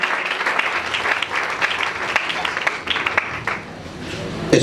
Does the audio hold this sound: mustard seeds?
no